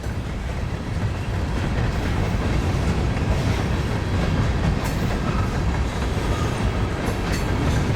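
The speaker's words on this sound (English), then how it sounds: "so I can catch this train in Cedar Falls too" A Union Pacific freight train rolls past close by in Iowa, a loud, continuous rumble with rattling wagons and clickety-clack over the rails, no voices.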